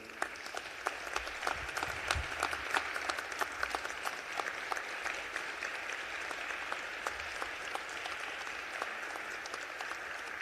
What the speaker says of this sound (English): I want to give him another round of applause here today